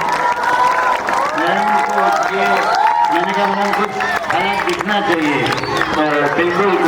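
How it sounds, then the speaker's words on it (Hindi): School audience clapping and cheering at a Hindi chhand singing competition event, lively applause mixed with shouts and excited voices, while a loud voice with musical tones carries over the crowd throughout. "जोरदार तालियां मैडम के लिए होगी"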